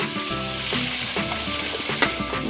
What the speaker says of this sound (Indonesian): Sembari kita tunggu ikannya matang digoreng